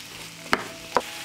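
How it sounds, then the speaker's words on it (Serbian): Bacon and vegetables fry together in a pan, a soft steady sizzle broken by two sharp clinks of a stirring utensil about half a second apart. "I pržit ću sve zajedno 5 minuta."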